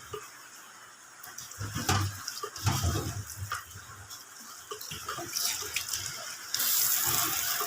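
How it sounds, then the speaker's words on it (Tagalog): Running tap water splashes steadily while broccoli is rinsed at a kitchen sink in a flooded kitchen, the flow swelling and easing as the florets move under the stream, with no voices. "Hugasan ko po muna itong broccoli."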